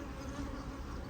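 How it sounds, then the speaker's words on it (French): Honeybees buzz around a beehive in a continuous, even drone, moderately loud and unbroken throughout. "il y a pas mal d'abeilles dans les ruelles, hein, entre les deux partitions que vous aviez mis"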